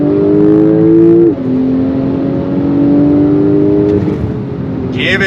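2025 Porsche 911 Turbo S engine on throttle, a loud close droning rev with a sharp drop as it shifts gear before pulling strongly again, no talk over it.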